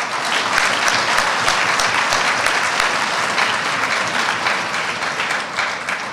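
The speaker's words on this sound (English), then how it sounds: "You could applaud for that." A large audience at a speech by Kevin McCarthy breaks into loud, sustained applause, thick steady clapping filling the room from start to end with no speech over it.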